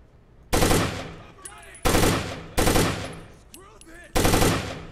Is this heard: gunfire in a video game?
yes